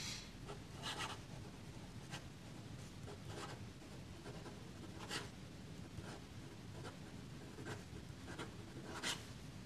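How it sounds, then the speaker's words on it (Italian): A Delta Dolcevita fountain pen with an 18kt fine nib scratches across paper in soft, steady rasping strokes close to the microphone, with a few louder scrapes standing out over quiet room noise. "andiamo a vedere come scrive questa penna"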